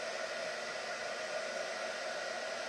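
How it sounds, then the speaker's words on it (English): A big air dryer blows steadily to dry fresh paint, a continuous loud broadband whoosh close by, unchanging throughout with no voices. "we're going to use the big air the big air dryer today, just so this goes a little bit faster"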